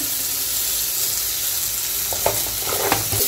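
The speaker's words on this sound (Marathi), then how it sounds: "कांदा टमाटा आपला छान परतलाय बघा, मऊ झालाय चांगला" Onion and tomato sautéing in a pan for an okra curry, heard as a continuous loud sizzle with a few clinks of stirring near the end, close and with no talk.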